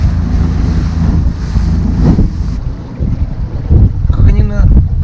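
Rough storm waves on the Burnaya River in the Leningrad region slap loudly around an Allyur 40-2K motorboat, mixed with heavy wind buffeting the microphone and scattered splashes near the end.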